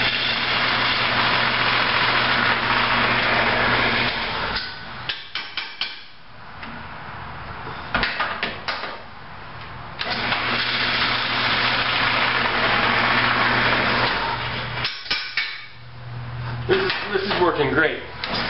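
An electric drill runs in long grinding bursts, then cuts out and coasts down between runs as it drills into a lamp, with a person talking over parts of it.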